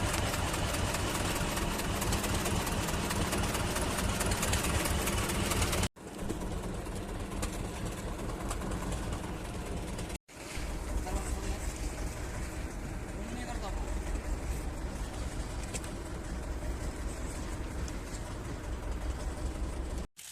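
Boat engine idling at sea while fishing nets are being set, a loud, steady chugging drone with a rapid pulse that continues throughout with two brief breaks.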